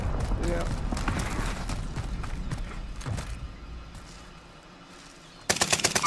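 Rapid video-game gunfire crackles through a chaotic firefight, with bursts and thuds throughout and a loud, dense volley of close shots erupting at the end, mixed under players' voices.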